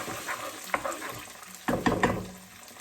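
Pad Thai noodles with beef being stirred in a hot pan, a quiet sizzle broken by a few sharp scraping and clattering strokes, close by, without speech.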